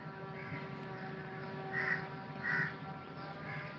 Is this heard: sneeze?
no